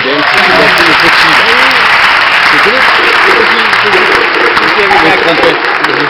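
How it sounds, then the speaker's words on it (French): Audience applause at a Cuban son music concert: loud, sustained clapping from a crowd, dense and continuous, with voices mixed underneath. "Applaudissements."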